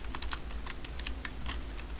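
Quick, uneven keystrokes on a computer keyboard, close and fairly quiet, tapping steadily on an Ubuntu server setup with no voice.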